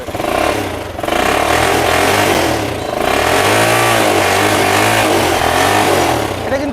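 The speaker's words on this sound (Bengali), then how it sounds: "আমি স্টার্ট দিয়ে দেখাচ্ছি সাউন্ডটা শুনলেই ভাই মন ভরে যাবে" A ten-year-old Singer Commando motorcycle in fresh condition, its engine running loud and close with a steady thumping idle that swells into revs, dipping briefly near the start and again midway.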